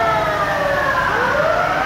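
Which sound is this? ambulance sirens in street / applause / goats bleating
ambulance sirens in street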